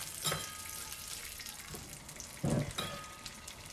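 Cumin seeds sizzle and crackle steadily in hot ghee in a pan, with a couple of sharper bursts of spitting as something is dropped into the hot fat.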